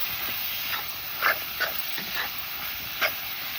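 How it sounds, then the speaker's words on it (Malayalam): Squid being stirred and fried in a pan, a faint steady sizzle and hiss with a few soft scraping stirs breaking through at irregular moments. "ഇനി നമുക്ക് നമ്മുടെ കണവക്കുട്ടന്മാരെ ഇട്ട് കൊടുക്കാം മക്കളെ. എൻ്റെ മക്കളെ, എന്നിട്ട് നല്ല പോലെ അങ്ങോട്ട് മിക്സ് ചെയ്യാം"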